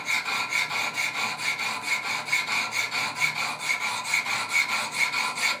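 A Wicked Edge sharpener's stones stroke the edge of a Benchmade 940 knife in a quick, even back-and-forth scrubbing rhythm, close and steady, about ten strokes with no voice.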